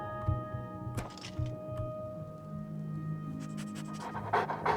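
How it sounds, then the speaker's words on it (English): Dog panting in the video game The Elder Scrolls IV: Oblivion Remastered, quick rhythmic breaths close by, over soft background game tones and light thumps. "Are dogs allowed to be in here?"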